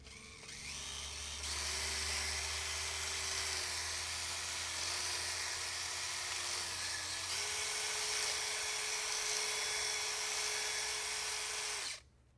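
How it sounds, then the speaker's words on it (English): An electric drill spins a small Remington 81 rifle part steadily while a file is held against it, a sustained whirring whine with slight pitch shifts that stops abruptly at the end. "Just going to chuck it in a drill like that, and then take a file."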